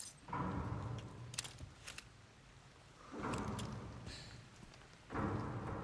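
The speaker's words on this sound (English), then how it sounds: "I love the rain ambience in this game." Steady rain ambience in a horror video game, with broadband bursts of downpour or rumbling thunder swelling at the start, middle and end, with no talking.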